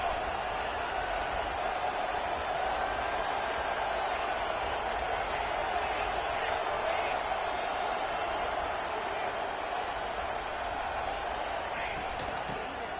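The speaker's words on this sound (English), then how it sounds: "listen to this crowd noise. This stadium is vibrating." Crowd noise in a packed stadium during an NCAA 26 college football game between BYU and Georgia Tech: a steady, loud roar that never lets up, with game commentary talking over it.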